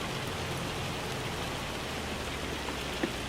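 Hail teems down in the farming game Farm Sim 25, a dense, steady patter like heavy rain on a surface that stays even and continuous throughout, with no voices.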